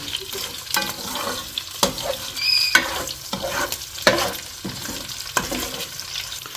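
Chicken curry ingredients fry in a pan over a low flame, a steady soft sizzle broken by repeated stirring scrapes and clacks of a spoon against the pan, close and fairly loud.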